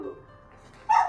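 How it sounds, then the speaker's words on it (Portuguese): A dog barks once in the background, giving a short, fairly loud yip near the end after a quiet stretch with a faint voice at the start. "Tem um cachorro latindo aí atrás"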